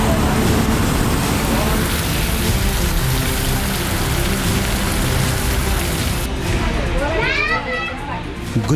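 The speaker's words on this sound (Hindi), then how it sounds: "गुजरात ताबड़तोड़ बारिश का कहर झेल रहा है।" Steady heavy monsoon rain in Gujarat, India roars throughout, a dense wash of noise with voices and other activity mixed in underneath.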